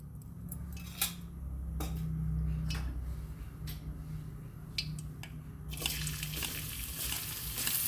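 Chopped onion frying in oil in a pan for shavige pulav, a steady sizzling hiss with occasional spoon scrapes and clinks, close and continuous with no talking.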